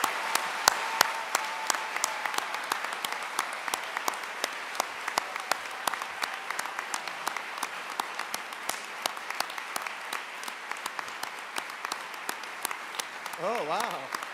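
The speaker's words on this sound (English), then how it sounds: "One more round of applause." Audience applause at a university chemical and biomolecular engineering undergraduate diploma ceremony, dense sustained clapping from a large crowd, loud and even throughout, with a voice rising briefly near the end.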